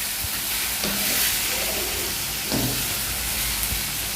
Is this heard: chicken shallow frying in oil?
yes